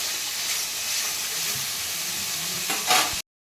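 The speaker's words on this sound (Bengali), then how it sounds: "এবার আমি একটু ভালো করে কষিয়ে নেব।" Egg korma masala with salt is sautéed in a pan, a continuous close sizzle and hiss with a brief burst of stirring scrapes near the end before the sound cuts off abruptly, no speech.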